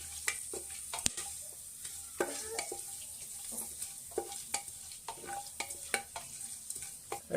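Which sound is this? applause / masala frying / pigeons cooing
masala frying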